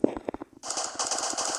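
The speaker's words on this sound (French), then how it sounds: "Mais pourquoi il tire?" Automatic gunfire from a weapon in the Siren Head video game, a few scattered shots at first, then a sustained, loud rapid burst of fire.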